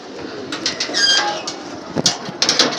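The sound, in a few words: pigeons cooing after release from loft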